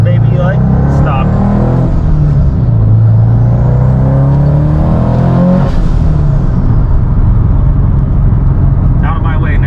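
A Subaru STI Type RA fitted with the BBR 500 package drives along with a loud, steady engine drone and rising and falling revs, with someone talking over it.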